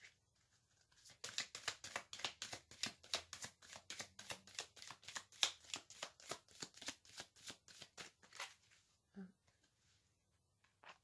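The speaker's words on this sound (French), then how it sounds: "Je vais tirer d'autres cartes." Tarot cards are shuffled in a steady run of quick, crisp riffles and slaps for about seven seconds, close and fairly quiet, followed by a brief pause and a soft card draw.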